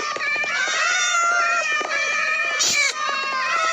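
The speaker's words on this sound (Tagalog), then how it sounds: "Grabe naman sa pusa" A cat meowing loudly and continuously up close, a drawn-out, wavering cry with a sharp peak near the end.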